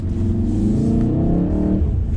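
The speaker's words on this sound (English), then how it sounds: "We're gonna put the all-wheel drive to the power." A new Volkswagen all-wheel-drive car accelerates hard from inside the cabin, engine revving and rising in pitch over about two seconds before easing off.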